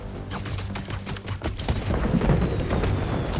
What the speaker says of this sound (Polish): Fajerwerki są podpalone?